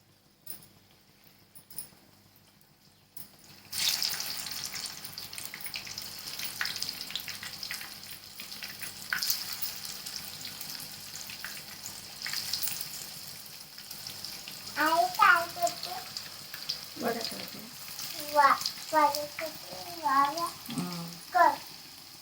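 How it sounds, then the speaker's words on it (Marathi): Colocasia-leaf fritters (aluvadi) go into hot oil and fry with a steady close sizzle and crackle, while a voice talks over the frying. "तेल तापलं आता त्यामध्ये वड्या सोडून घेते"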